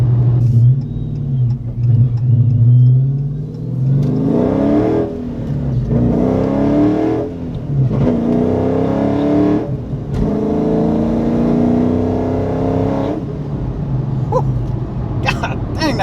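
A Whipple-supercharged Dodge Challenger 392 V8 accelerating hard through several gears, loud rising engine roar with brief dips at each shift, heard from inside the car.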